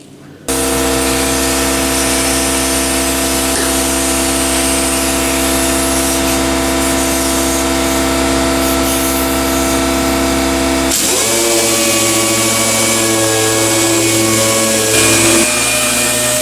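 A dual-action sander fitted with 220-grit paper works over car body panels with a loud, continuous tonal whir. The pitch shifts partway through as the load changes, and there is no talk.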